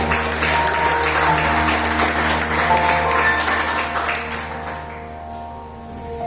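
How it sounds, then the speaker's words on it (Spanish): A church congregation applauds, steady dense clapping over a low sustained organ-like drone, fading slightly toward the end. "Vamos a darle un aplauso al Rey de Reyes."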